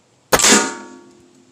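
A single shot from a Notos Gen2 rifle aimed at a target: one sharp crack followed by a brief ringing metallic decay, close and alone.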